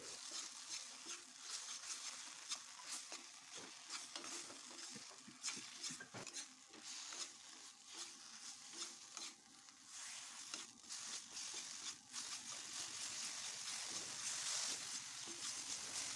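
Spices for a puti fish curry being stirred and sautéed with mustard oil in a kadai, a continuous scraping of the spatula against metal over a soft sizzle, close and steady with no voices.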